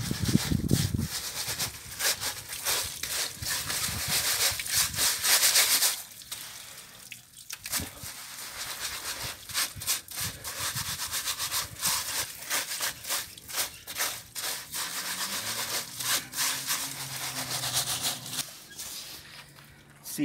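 Water sloshes and trickles as wet sand is sifted through a sieve over a bucket of water, with a continuous splashing and dripping texture and irregular bursts of pouring throughout.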